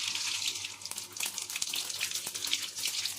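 Tempering spices splutter in hot oil on a stove turned low while lemon rice is cooked, a crackling stream of sharp little pops and hiss close to the pan.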